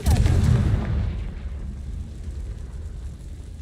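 Confringo fire-blast spell from the Hogwarts Legacy video game: a single loud, booming burst at the start that decays into a low rumbling tail, with no talk over it.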